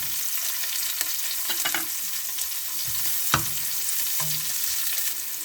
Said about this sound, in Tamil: இப்போ பார்த்திங்கன்னா வெள்ளைப்பூடு இஞ்சியும் பொரிஞ்சிருச்சு. இப்போ ஆனியன் கொஞ்சம் போட்டுக்கலாம்.